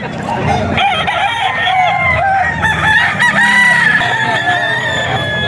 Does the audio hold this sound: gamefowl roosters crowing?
yes